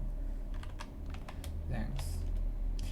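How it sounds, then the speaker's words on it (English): Typing on a computer keyboard while entering Ruby array code, a run of quick, uneven key clicks close by over a low steady hum, with a brief louder clatter midway. "Oops, I just typed it wrong."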